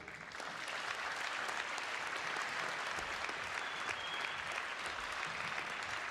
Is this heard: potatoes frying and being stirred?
no